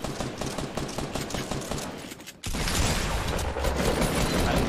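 Rapid automatic gunfire in the Fortnite video game crackles in dense bursts, then shifts into a louder, sustained barrage of shots after a brief pause, with no voices heard.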